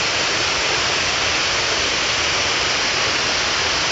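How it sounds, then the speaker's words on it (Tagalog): Steady broadband rush of the waterfall at the far end of Bato Spring, a continuous loud hiss of falling water with no pauses and no voices. "Ayun yung falls sa dulo."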